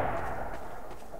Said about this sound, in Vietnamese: mình đã sử dụng súng này mình tỉa nó phát rồi đi luôn rồi